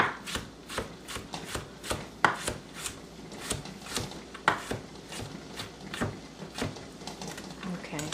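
Knife chopping an ingredient into a fine, pea-sized dice on a cutting board for a Moscow apple salad, with steady, fairly fast taps repeating throughout at close range.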